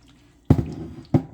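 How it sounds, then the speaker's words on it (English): Chopped rhubarb tipped from a bowl into a sprayed 9x13 baking pan: two soft, wet thuds about half a second apart against a quiet kitchen background. "we're going to dump in all of our rhubarb, scraping the bowl, getting all of that out"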